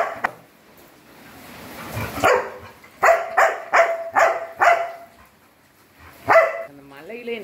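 A puppy, the lone survivor of its litter, yelps and whimpers in a run of several short, close, high-pitched bursts, with quieter whining and a person speaking between them.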